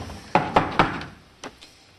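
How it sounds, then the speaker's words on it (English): Knocking on a wooden door: three quick, sharp knocks, a short pause, then two softer knocks, close and clear without any talk. "once you're inside, you don't have to knock anymore."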